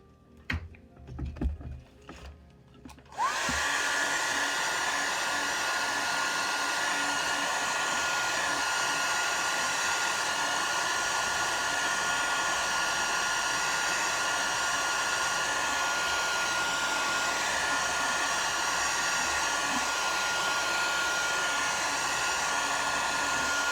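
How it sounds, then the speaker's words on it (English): A hairdryer starts up after a few seconds of brief handling noises and then runs steadily and loudly, a constant whooshing whine with no break. "I'm going to get out my hairdryer."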